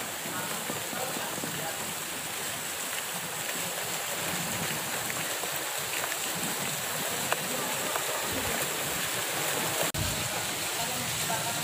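Floodwater about one meter deep through a residential area gives a steady, fairly faint rushing wash that runs evenly the whole time, with a brief knock near the end.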